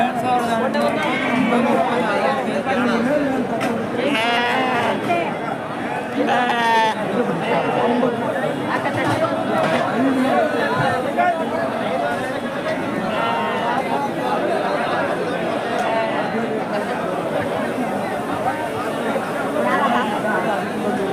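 Busy weekly village market (santhe) at Akkirampura, Tumakuru district, with a dense crowd chattering continuously and sheep bleating here and there through the din, loud and steady throughout.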